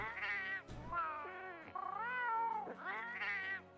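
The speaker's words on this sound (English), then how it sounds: "Only got 3 cat voices." Cat voice options in the video game Monster Hunter World: a run of drawn-out, tonal meows, loud and close, one after another with brief gaps and no talk.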